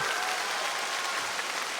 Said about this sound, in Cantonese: 再俾掌聲，後邊呢班咁出色嘅樂手好嗎？